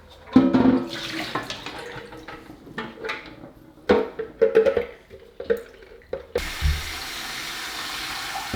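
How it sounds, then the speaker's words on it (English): Fresh water pours in uneven bursts into the water tank of a De'Longhi Magnifica S coffee machine during descaling, splashing and gurgling, then a steady rushing flow takes over near the end. No voices. "fill it up to the max again with fresh water"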